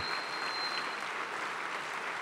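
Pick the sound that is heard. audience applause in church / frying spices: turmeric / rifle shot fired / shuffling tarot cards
audience applause in church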